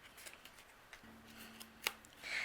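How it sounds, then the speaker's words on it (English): Quiet, close snips of scissors cutting through paper, a few crisp cuts with one sharper snip, in an otherwise quiet room. "I'm going to trim that off with my scissors."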